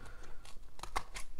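Scissors cutting paper for a planner page, heard as a brief run of close, quiet snips and rustling, with no talk.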